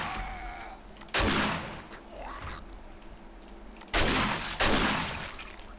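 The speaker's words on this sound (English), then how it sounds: "Get the shotgun out." A shotgun fires three loud, sharp blasts in the video game 7 Days to Die, one early and two close together near the end, with quieter game ambience in between.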